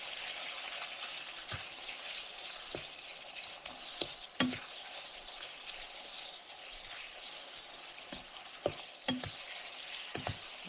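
Seasoned ground beef with chili powder and cumin sizzles steadily in a skillet, a constant frying hiss broken by a few sharp scrapes and taps of a spoon stirring the pan.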